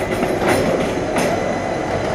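A metro train runs beside the New Garia railway platform in open air with a steady, loud rumble and rail noise that fills the whole moment, with no voices.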